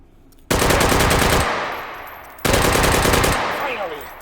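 Two long bursts of rapid automatic rifle fire from the VR game H3VR with the trigger held, each burst loud and close, starting abruptly and trailing off into reverberation.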